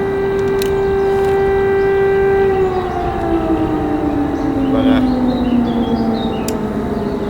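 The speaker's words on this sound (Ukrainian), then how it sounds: "О, повітряна тривога." Air raid siren wailing loud and steady during a fishing trip on the Dnipro river, its tone holding then sliding down as it winds off, with no talk over it.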